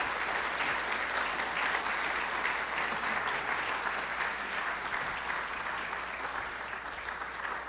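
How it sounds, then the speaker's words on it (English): An audience at a lecture on statistics and the Antarctic ice sheet gives sustained applause, a dense even wash of clapping that holds steady and slightly fades toward the end. "I'd like to ask for a round of applause just for the work that he's done for the series."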